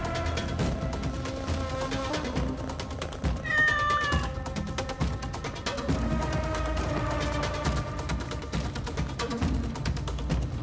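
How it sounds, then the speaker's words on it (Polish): A cat meows repeatedly while being petted in Assassin's Creed Mirage. The meows are clear and sit over a dense, loud game soundtrack and ambient background. "Pogłaszczemy kotka."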